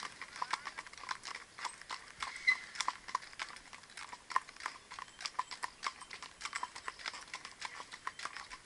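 Quiet, rhythmic clip-clop of a Mérens mare walking at an even pace, hoofbeats soft and slightly distant with faint background ambience.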